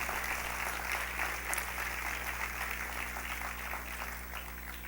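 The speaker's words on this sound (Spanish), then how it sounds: "que los bendigamos con un aplauso de consolación o" A church congregation gives sustained applause at a Christian service, an even, continuous patter of many hands, moderately quiet and somewhat distant over a low steady hum.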